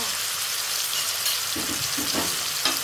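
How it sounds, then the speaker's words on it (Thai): Pounded eggplant, kept several days in the fridge, stir-frying in hot oil for a northern Thai eggplant salad, giving a steady close sizzle with a few soft stirring clinks and scrapes. "ตำบะเขือลงไปผัดน้ำมันค่ะ"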